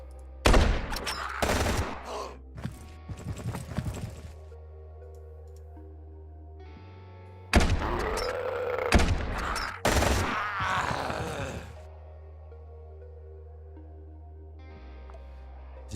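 Bursts of gunfire and heavy shotgun blasts crack out in the Quasimorph video game. Two loud clusters of shots are separated by a steady low electronic drone.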